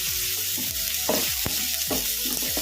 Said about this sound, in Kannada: ಉಳ್ಳಾಗಡ್ಡಿ ಏನು ಜಾಸ್ತಿ ಫ್ರೈ ಆಗೋದೇನು ಬೇಡ, ಒಂದೆರಡು ನಿಮಿಷ ಅಷ್ಟೇ ಫ್ರೈ ಮಾಡ್ಕೊಂಡ್ಬಿಡೋಣ.